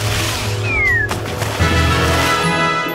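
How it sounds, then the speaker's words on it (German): A cartoon cat in a My Little Pony Equestria Girls video game lets out a loud, close, drawn-out meow with a rising wail, standing alone over the game's background music. "Diese Katze sieht richtig verrückt aus."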